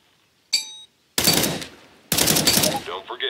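Video game gunfire from Counter-Strike: Global Offensive: a brief burst of shots, then two loud, sustained automatic bursts about a second apart, close and sharp with some echo tail.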